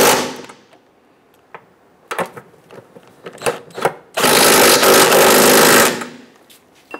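Impact wrench or power tool tightening transmission mount nuts on a 2011-2021 Jeep Grand Cherokee 3.6L V6, a few short bursts and then one sustained loud run of about two seconds, close up.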